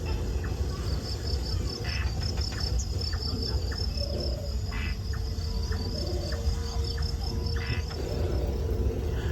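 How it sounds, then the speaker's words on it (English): A dense, continuous chorus of crickets chirps steadily on a forest floor at night in Singapore, with occasional faint bird calls scattered through the background. "All set against a chorus of crickets."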